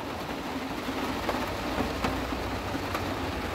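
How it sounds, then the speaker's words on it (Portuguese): Heavy rain pours steadily in a dense, even hiss with faint distant rumbles, continuous throughout with no talking. "tá chovendo demais da conta"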